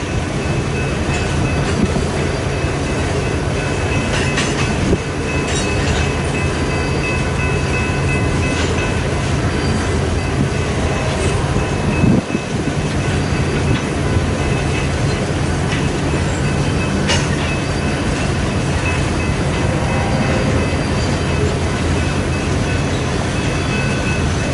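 A train rolls past close by, a loud, continuous rumble of rail cars with rhythmic wheel clatter and occasional squeals that keeps going for the whole stretch.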